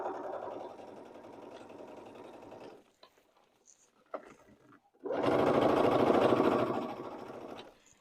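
Top stitching faux leather on a sewing machine: a steady whirring run, a pause with small clicks and handling noises, then a louder, faster burst of stitching, all near and clear.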